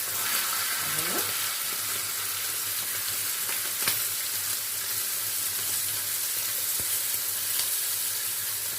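Sweet potato slices frying in oil on a gas stovetop, a steady, loud sizzle and crackle that runs unbroken throughout, with an occasional faint clink of a utensil.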